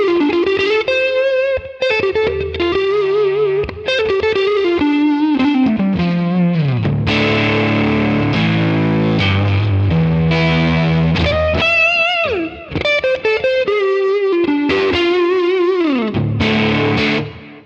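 Heavily distorted electric guitar played through Quad Cortex amp models with the gain pushed, ringing sustained chords and bending lead notes with thick saturation, loud and unaccompanied.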